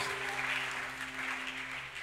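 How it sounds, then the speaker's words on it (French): Church audience at a youth seminar claps together on cue, a steady dense wash of applause filling the room throughout, with a low hum beneath and no talking. "Acclame!"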